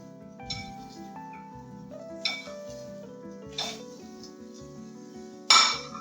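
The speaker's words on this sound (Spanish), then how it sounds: "Le voy a mezclar ahora la butifarra" Butifarra sausage being mixed into mashed potato and cabbage with garlic and pancetta in a pan, with scattered light clinks and scrapes of a utensil against the pan and one sharper, louder clatter near the end.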